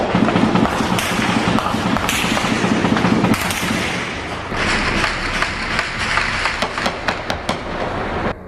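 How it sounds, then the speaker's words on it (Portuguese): Bursts of gunfire crack repeatedly during a rival drug faction's attempted invasion of the São Carlos complex in central Rio de Janeiro, loud, dense and overlapping, with sharp shots growing more rapid toward the end. "Os moradores foram pegos de surpresa pelos tiros quando voltavam para casa."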